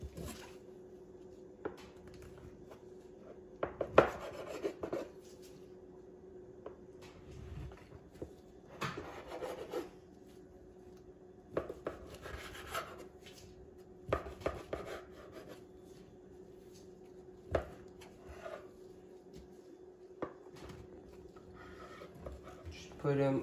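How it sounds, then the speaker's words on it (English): A knife chops through a stack of pre-oiled tortillas on a board in a series of quiet, irregular thuds and cuts, with a voice talking over them. "right here I have 5 tortillas that have already been pre-oiled, and I'm gonna be showing you how to chop them"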